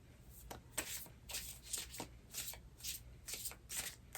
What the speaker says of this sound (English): I've shuffled them enough.